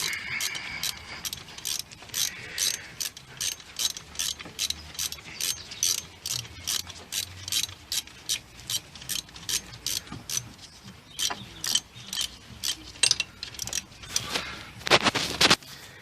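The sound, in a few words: tightening bolts with a ratchet on a VW Beetle bracket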